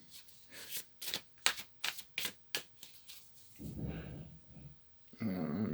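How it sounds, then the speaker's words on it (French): An oracle card is drawn from a deck, with a run of sharp papery taps and flicks in quick succession, close and quiet, followed by softer rustling and a low murmur toward the end. "Et je tire une dernière carte."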